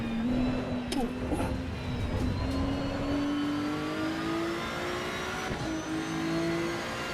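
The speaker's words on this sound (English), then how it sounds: "Got that lovely little wastegate whistle" Racing car engine in Assetto Corsa EVO, a steady close drone under load with a faint high wastegate whistle running through it, rising gradually with a few brief clicks over the top.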